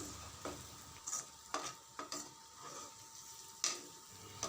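Chettinadu chicken masala is stirred in a pan over a low flame, with faint scrapes and light taps of a spoon at irregular intervals over a quiet, steady sizzle.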